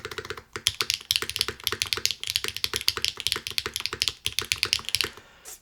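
Rapid typing on a Gray Studio Infinite 70 TKL mechanical keyboard, dense, clacky keystrokes in quick bursts, close and crisp, with a brief pause early on and no talking.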